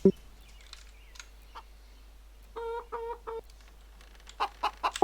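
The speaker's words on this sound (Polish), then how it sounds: "Te kury mnie tak denerwują," Short bursts of clucking from a few chickens in the video game CS:GO, with brief pauses between them, fairly clear and close, with no talking.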